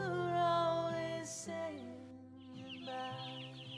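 Chickens in a commercial poultry house holding about 30,000 birds, giving steady overlapping clucks and calls close to the microphone with no talking.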